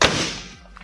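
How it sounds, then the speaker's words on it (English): A car bonnet slams shut with one heavy, close thud that rings and fades over the following second, with no other sound. "If we close the bonnet"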